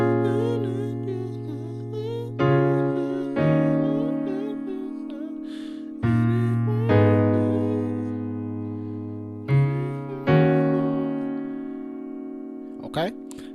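Piano playing a passage of a song, a series of sustained chords struck one after another, each ringing and fading before the next, clear and close with no talking.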